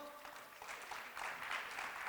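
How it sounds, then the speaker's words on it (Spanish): A conference audience gives brief applause on being welcomed to a panel on poverty and inequality, a soft, slightly distant patter of clapping that grows a little fuller toward the end. "Fuerte el aplauso."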